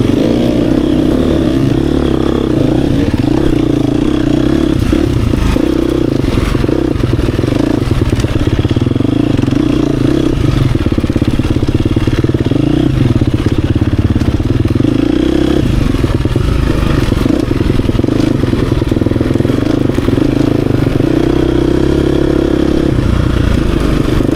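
A 2024 Beta 250 four-stroke dirt bike engine revs loudly and continuously close by, its note rising and falling with some clattering over roughly twenty seconds.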